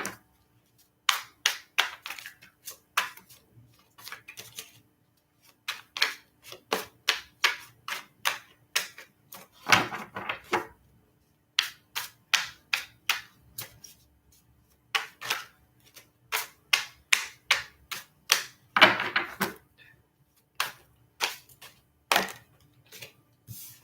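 Tarot cards being shuffled on a table: repeated bursts of crisp, rapid riffling clicks, several quick runs separated by short pauses, close and fairly loud with no talking.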